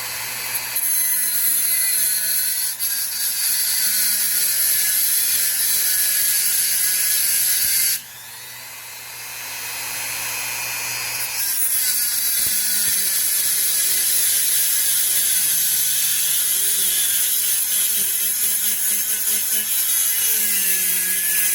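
A Dremel rotary tool cuts through a part on a 1999 Chevy Silverado pickup, giving a loud, steady high-pitched grinding whine that runs continuously, dips briefly partway through, then resumes at full strength.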